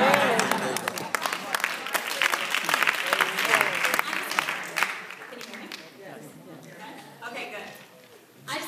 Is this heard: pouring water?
no